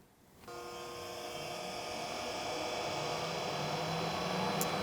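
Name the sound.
oil country lathe spindle running up to speed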